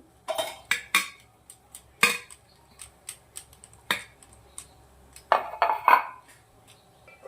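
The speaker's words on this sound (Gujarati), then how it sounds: "આપણે થોડું થોડું તેલ પ્લેટોના અંદર લગાવી દઉં છું" Steel idli plates clinking and clattering as they are oiled in a home kitchen, a string of sharp, close metallic taps and chinks at irregular intervals with quiet gaps between them.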